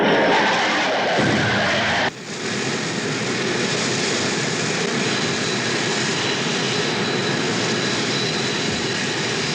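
Blue Angels jets streak past at more than 500 mph in a loud, roaring rush. A sharp swell cuts off about two seconds in, and a continuous heavy engine roar follows.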